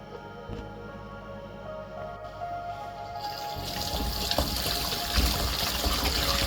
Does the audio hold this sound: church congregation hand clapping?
no